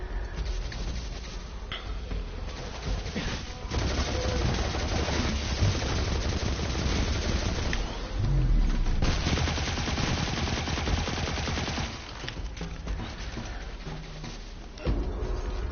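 Rapid bursts of automatic gunfire from a shooter video game, dense and loud through most of the stretch, with brief lulls and occasional sharper single shots.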